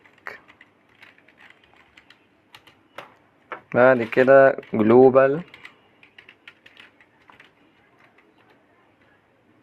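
Light clicks of a computer keyboard typing a git config command, scattered and fairly quiet, with someone speaking over the middle stretch.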